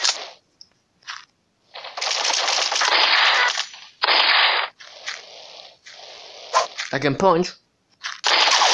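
Rapid automatic gunfire from a strong gun in the Mini Militia shooter game, several loud sustained bursts separated by brief pauses, with a player's voice talking over parts of it.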